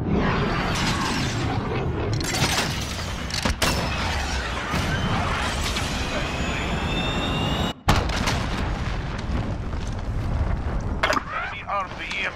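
A jet aircraft arrives in a multiplayer shooter game, its roar and rising whine running under constant mechanical clatter and gunfire, loud and busy, with voice callouts mixed in.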